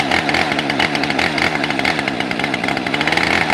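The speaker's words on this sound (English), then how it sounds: "I'll even throw in the chainsaw revving up" A chainsaw engine runs at high revs, loud and close, a continuous buzzing snarl with rapid pulsing that holds steady throughout with no voices.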